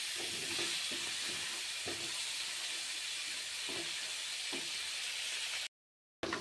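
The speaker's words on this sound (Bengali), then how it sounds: "এবার আমি কাঁকড়াটাকে ভালোভাবে ভেজে নিচ্ছি।" Small crabs fry in hot oil in a pan over a low-to-medium gas flame, giving a steady, loud hiss of sizzling with a few soft stirring knocks, then a brief cut to silence near the end.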